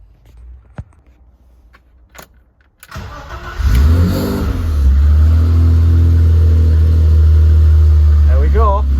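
A BMW E28 with a swapped M20B25 engine cranks briefly and fires for its first start after the swap, then settles into a loud, steady idle close by.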